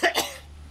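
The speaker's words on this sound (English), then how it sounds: "this dry hacking cough" A dry, hacking cough comes as two quick, close bursts, followed by a faint fading tail.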